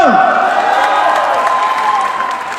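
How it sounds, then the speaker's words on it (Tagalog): An audience at a motivational closing-message event applauds in a dense, steady wash of clapping and cheering that fades slightly toward the end, with music underneath. "sa mga board, okay lang ba lakasan ng palakpak nyo?"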